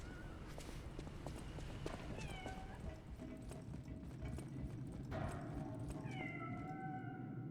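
A cat meows a few times in faint, drawn-out cries over a noisy, busy background with some clattering.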